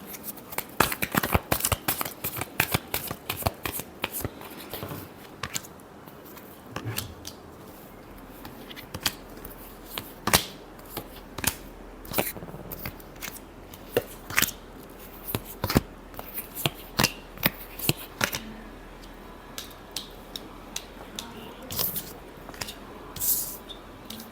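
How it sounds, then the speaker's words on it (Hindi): Tarot cards being shuffled by hand, a long run of crisp riffling flutters and slaps, dense and rapid at first, then settling into separate snaps and taps, close and fairly quiet with no talking. "Last shuffle."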